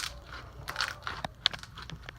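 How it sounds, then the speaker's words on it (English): Freshly made slime is pressed and squeezed close up, giving off a quiet series of scattered crunchy crackles and small pops, irregular and soft. "Now listen to this crunch."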